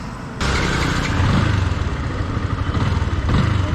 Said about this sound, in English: let's start riding this bike